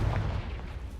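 A Confringo blasting spell goes off in the video game Hogwarts Legacy: a sharp, loud, close explosive crack with a brief booming rumble, lasting about a second, with no talk.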